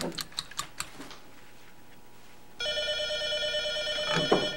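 A telephone starts ringing partway through with a bright, insistent electronic ring, preceded by a few quick keyboard-like taps, then continues steadily and loud to the end.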